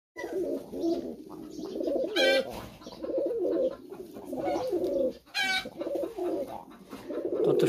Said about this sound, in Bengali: কত সুন্দর এক জোড়া কবুতর